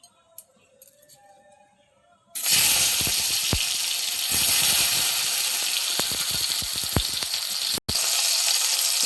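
Chopped tomato hits hot oil tempered with dried chili and whole cumin, bursting into a loud, steady sizzle after a quiet start, with faint crackles and stirring clatter.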